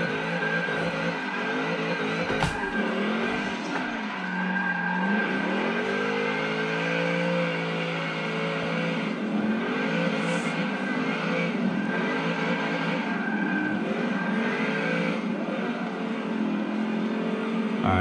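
Engine of a race car in a racing simulator game revving steadily throughout, with pitch rising and falling as it slides under handbrake; loud, continuous and close, with no talk.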